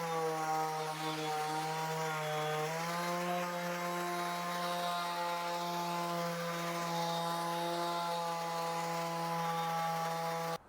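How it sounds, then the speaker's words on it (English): Power sander running continuously on a wooden ottoman table during final sanding, a steady loud motor whine with a slight pitch step early on, alone and without talk. "the next step is going to be the final sanding"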